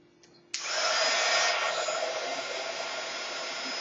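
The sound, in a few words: heat gun melting red embossing powder on soda can tab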